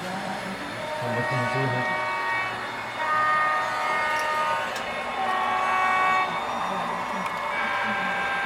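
GN E-unit diesel locomotive horns honk repeatedly on a train layout, sustained multi-tone blasts layered over steady mechanical rumble and background chatter, loud and near throughout.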